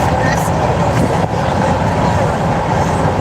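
A freight train trailing a grain train rumbles past nearby, a loud, steady roar with rolling low-end clatter that holds without a break.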